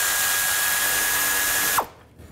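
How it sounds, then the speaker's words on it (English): A power tool spins a 10mm socket to remove a bracket bolt from the timing cover area of a 2000-2006 Chevy Tahoe, giving a steady, loud whirring whine that cuts off abruptly after about two seconds. "Use the same 10mm socket."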